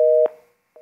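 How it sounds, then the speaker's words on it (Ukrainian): A telephone busy tone sounds after a dropped call on a live broadcast: a steady loud beep cut off, then a fainter tone pulse resuming after a short gap. "Зірвався телефонний дзвінок."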